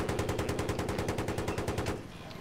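Rapid automatic gunfire in the Battlefield 3 video game, a loud, evenly spaced burst of shots lasting about two seconds before it stops abruptly.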